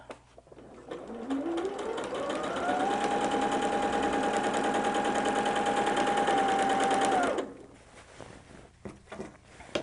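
A sewing machine runs up to speed and holds a steady, rising-then-level whir while back stitching heavy quilt borders, lasting several seconds before stopping, followed by a few small handling clicks.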